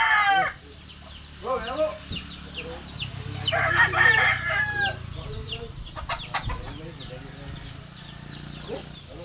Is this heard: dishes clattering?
no